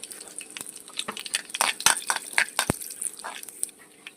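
Mustard seeds, cumin and chana dal sputtering in hot oil for a tempering: irregular sharp pops and crackles that cluster and peak in the middle, over a soft fry, close and fairly loud, with no voices.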